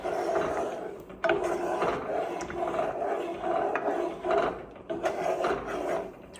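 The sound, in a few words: stirring brown butter in a pan on a gas burner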